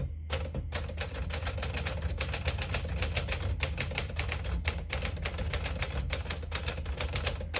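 A vintage portable Clipper typewriter types in a fast, steady run of close, crisp key strikes, with clacks repeating evenly throughout and no talking.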